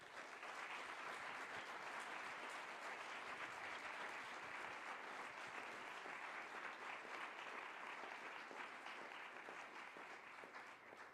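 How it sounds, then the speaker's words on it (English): A conference audience breaks into sustained applause, a dense even wash of many clapping hands heard from a moderate distance, holding steady for about eleven seconds without anyone speaking over it. "I would really like to ask you for the strongest round of applause for all these people here."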